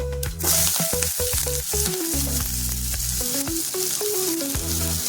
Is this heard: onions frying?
yes